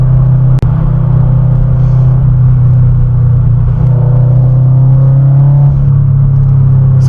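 A modified Subaru BRZ with an HKS front pipe idles in a loud, deep, steady exhaust rumble. A sharp click lands near the start, and the low drone shifts slightly in pitch later on.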